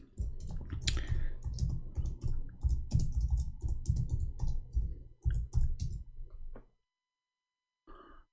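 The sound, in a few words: typing on a computer keyboard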